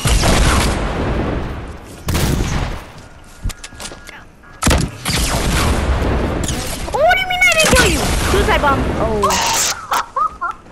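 Video game gunfire in playground mode cracks out in several loud bursts and thuds spread across the stretch, mixed with explosive booms, while voices talk over much of it.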